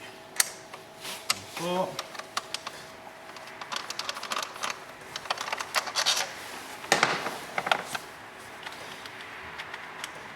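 Cover bolts being cracked loose on a Volkswagen Golf 1.4 petrol engine: sharp metallic clicks and a brief ratcheting burst, close and moderately loud, scattered irregularly while someone speaks intermittently.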